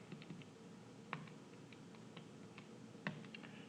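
Keys pressed on a graphing calculator, a soft steady pattering of small close clicks with a couple of firmer presses, quiet and without talk.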